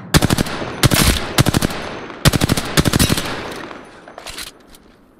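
Enemy automatic gunfire in Apex Legends, loud rapid bursts of shots in several rhythmic volleys, tapering off into fainter, more distant shooting toward the end.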